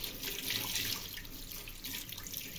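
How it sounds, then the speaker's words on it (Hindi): Water runs steadily from a fresh-water tap while fabric treated with ink remover is rinsed beneath it, a soft continuous hiss and splash, fairly faint and close. "अब इसको जाके फ्रेश वाटर टैप के नीचे इसकी फ्लशिंग करके आपको फाइनल दिखा देते हैं"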